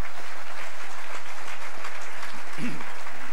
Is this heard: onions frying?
no